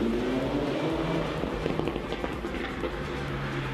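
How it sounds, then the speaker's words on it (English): A 2018 MINI John Cooper Works Cabriolet's exhaust pops and crackles on a downshift, with a rapid burst of sharp cracks over a steady engine and road drone. "listening to the exhaust that pops violently after every downshift"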